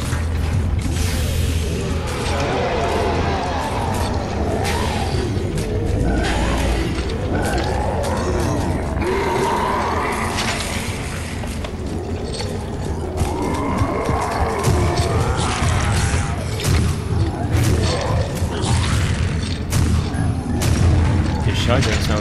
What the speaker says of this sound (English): His shotgun sounds different too.